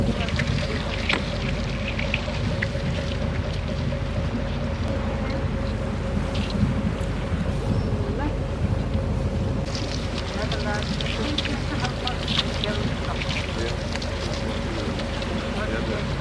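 A boat's engine rumbles steadily under continuous churning and crunching noise as it breaks through ice near Stockholm, with scattered cracks breaking through the broadband roar.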